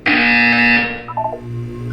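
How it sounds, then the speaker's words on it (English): A loud electronic buzzer from the video game Portal 2 blares steadily for about a second, then cuts off and leaves a low hum with faint electronic blips. "You will hear a buzzer."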